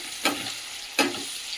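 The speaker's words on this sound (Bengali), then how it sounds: "ভাজা হোক।" Fish seasoned with salt and turmeric frying in hot oil, giving a steady sizzle broken by two sharp stirring or turning scrapes about three quarters of a second apart, close and moderately loud.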